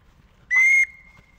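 A referee's whistle at a football match gives one short, sharp, shrill blast of about a third of a second over quiet background.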